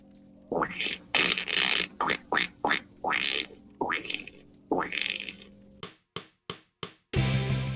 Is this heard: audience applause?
no